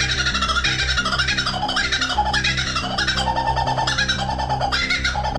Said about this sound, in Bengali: লাফিং কুকাবুরা পাখির অদ্ভুত আওয়াজ পৃথিবীর অন্যতম পরিচিত এবং অভ্যস্ত